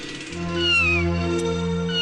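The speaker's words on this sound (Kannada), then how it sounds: "ಮಿಯಾವ್ ಮಿಯಾವ್ ಅಂತ ಸೌಂಡ್ ಬರ್ಬೇಕು" One long, drawn-out cat meow, close and fairly loud, rising and then trailing off.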